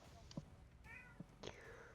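A cat meows a few short, soft times in a quiet room during a game session, with faint whispery voice sounds between the calls.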